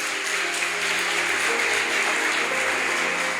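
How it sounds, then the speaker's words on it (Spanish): A church congregation claps for the Lord during an evening service, a dense, steady wash of applause that holds at an even level throughout, with a faint sustained low tone underneath. "Dale un fuerte aplauso al Señor en esta noche."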